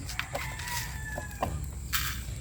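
Chickens clucking and calling in short bursts over a constant low rumbling background, with a few sharper squawks spread across the clip.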